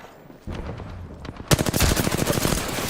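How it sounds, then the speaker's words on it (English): Video game gunfire strikes the player's shields. After a quieter opening, rapid bursts of shots erupt and continue as a loud, dense rattle to the end. "I'm under fire. Shields are depleted."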